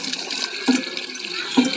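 Water from a decades-old village tubewell, splashing and trickling close by, with two brief gurgling surges over a steady flow.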